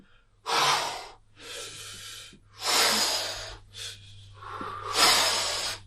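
Heavy, forceful breaths during a bodyweight core exercise, five loud breathy bursts of exhaling and inhaling in an uneven rhythm, close up and alone with no talk.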